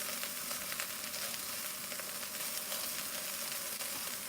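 Sausages sizzle and fry steadily in a pan, a dense continuous crackle held close and loud throughout with no talking.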